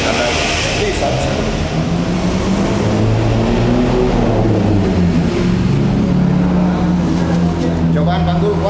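A Yamaha YZ 125X two-stroke dirt bike engine revving hard, a loud continuous buzzing drone with rising and falling pitch as the throttle is blipped, close by and steady throughout.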